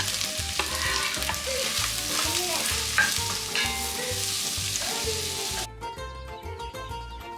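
Sliced onion sautéing in olive oil and butter with crushed ginger, garlic and green chillies in a pan, a steady sizzle broken by stirring scrapes and clatter, close up, ending with a few louder utensil knocks.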